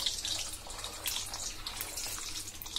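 Eggs deep-fry in hot oil for egg biryani, giving a continuous soft, crackling sizzle with scattered pops at a moderate distance.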